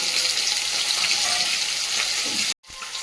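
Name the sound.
chopped garlic added to frying crab in pan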